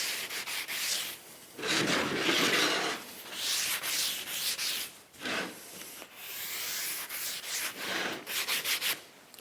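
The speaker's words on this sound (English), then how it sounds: "This is a foam sanding block. It's a Festool one" Hand sanding wood for a coat rack with a Festool foam sanding block in 120 grit: steady, close rubbing strokes in repeated back-and-forth bursts with brief pauses, loud and clear with no talking.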